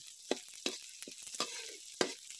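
Onions sautéing in oil in a pan for a mung bean dish, with bursts of sizzling and crackling spread through the clip and several sharper spatters standing out, heard up close with no talking.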